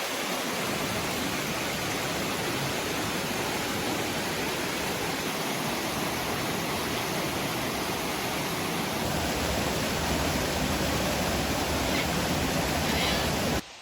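A waterfall in the Blue Mountains rushes steadily, a dense continuous roar of falling water at constant loudness with no other sounds.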